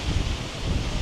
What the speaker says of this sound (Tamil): காற்று சத்தம் கேட்கவே நல்லா இருக்குது.